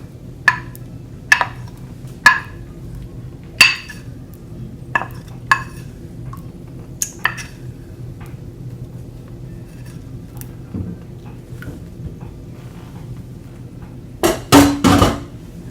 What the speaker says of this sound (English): Just want to stir it.